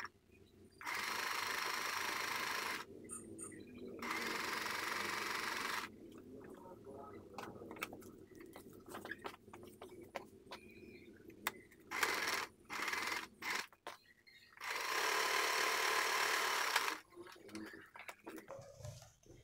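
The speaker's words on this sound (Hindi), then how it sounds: "इस तरह हमने ये दोनों पीस आपस में सिल लिए हैं।" Sewing machine stitching blouse lining and fabric together at the neck: several whirring runs of stitching, each a few seconds long, separated by pauses, light handling noises and a spoken voice.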